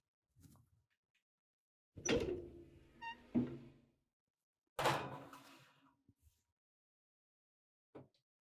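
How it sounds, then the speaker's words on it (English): An oven door shuts with a couple of solid thunks after an omelet dish of spread-out eggs goes in, with quieter knocks and clatter around it in a kitchen, and no voices. "we're gonna go ahead and pop this into the oven"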